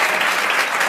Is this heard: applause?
yes